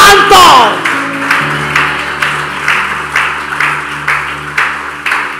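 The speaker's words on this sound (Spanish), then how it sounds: "Ese aplauso está flojo." Congregation clapping during a church service, a loud, steady rhythmic applause from many hands with crowd noise, beating in regular pulses after a brief shout at the start.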